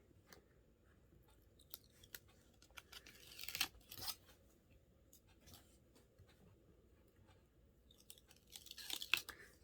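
An adhesive paper strip is peeled away after being rubbed down, giving faint rubbing and crinkling followed by short tearing rasps, quiet and close with pauses between.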